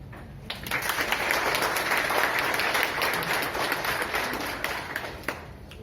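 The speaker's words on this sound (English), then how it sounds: "I want you to give a big round of applause for your own self" A workshop audience at a women's wellness event breaks into a big round of applause, dense steady clapping from many hands that swells and holds for several seconds with a few louder claps standing out near the end.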